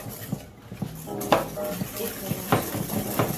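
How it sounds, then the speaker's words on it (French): Egg yolks being whisked hard in a bowl for tiramisu, giving repeated clinks and scrapes of a utensil against the bowl at an irregular, vigorous pace, fairly close, with a voice talking over part of it. "Alors on mélange énergétiquement à fond la caisse."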